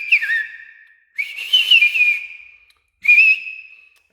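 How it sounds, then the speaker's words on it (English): A person whistles without fingers, producing three clear, high articulated whistle bursts separated by brief silences, each with quick pitch slides before a sustained tone. "there's also a type of whistle which I learned many years later, which is practically the same without fingers"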